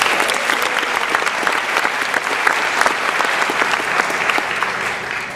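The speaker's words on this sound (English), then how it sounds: "Big round of applause for" A convocation audience at a college breaks into sustained, steady applause, many hands clapping together at an even loudness for several seconds with no speech over it.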